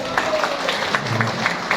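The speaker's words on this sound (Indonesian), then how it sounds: "Boleh tepuk tangan Bapak Ibu." An audience at a sales presentation claps briefly on cue, giving a short burst of close, slightly rhythmic claps over a murmuring room.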